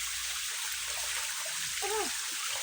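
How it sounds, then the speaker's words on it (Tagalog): A small waterfall in a stream in Northern Samar, with water flowing and trickling in a steady, continuous wash, fairly close, plus a faint brief squeal or call near the end. "Ayun, mini falls."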